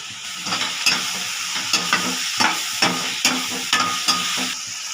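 Onion, tomato and brinjal sautéing in a pan for crab gravy, with regular rhythmic spatula strokes scraping and tapping roughly every half second over a continuous close sizzle, no voices.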